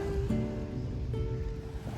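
Waves wash onto a Lake Michigan beach in Sheboygan, Wisconsin, a steady broadband surf wash with wind rumbling over the microphone, no one talking.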